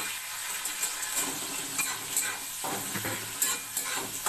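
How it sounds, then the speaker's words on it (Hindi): Onion and curry leaves fry in oil in a pan until lightly browned, giving a steady close sizzle with faint scraping from stirring and no talk. "इसको हम हल्का ब्राउन होने तक भूनेंगे"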